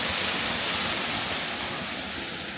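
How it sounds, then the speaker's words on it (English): Water gushes steadily out of a pipe beside an old water wheel in a rural small town in Virginia, a loud continuous roaring rush with no voices. "All that water gushing out"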